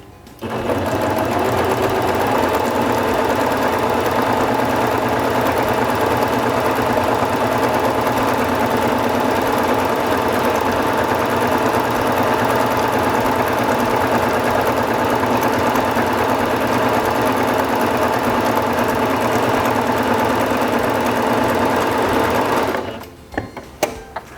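A Singer Fashion Mate 5560 sewing machine runs continuously, stitching at a steady, fast mechanical whir with a fine rhythmic chatter for about twenty-two seconds, loud and close, before stopping abruptly.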